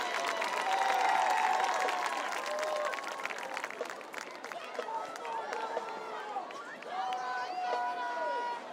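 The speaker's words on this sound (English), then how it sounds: "Let's have another big round of applause for the Kings Mountain High School Marching Mountaineers" Stadium crowd applauding and cheering after the Kings Mountain High School Marching Mountaineers perform at a high school football game, steady broadband clapping and crowd roar with scattered voices and shouts, fading slightly midway then swelling again.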